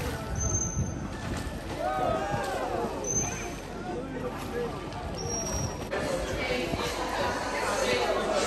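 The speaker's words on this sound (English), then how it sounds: "We took a ferry out to the Blue Lagoon Island, a 3-mile ride away from Nassau." Steady engine rumble and water wash aboard a ferry making a three-mile crossing from Nassau to Blue Lagoon Island, continuous and fairly close, with people talking over it throughout.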